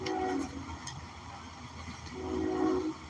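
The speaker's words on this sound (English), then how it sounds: "that train noise could be significant" A train passes at a moderate distance, its rumble underlying brief tonal whistle or horn notes at the start and again near the end, with faint clicks above, no talk.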